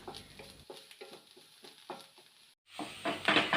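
Turmeric powder being stirred into Ceylon spinach thoran in a pan, giving a series of soft scraping strokes with a light sizzle, followed by a brief pause and then a louder burst of frying.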